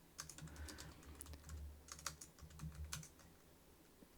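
Typing on a computer keyboard, a run of quick, faint key clicks in an irregular rhythm over a low steady hum.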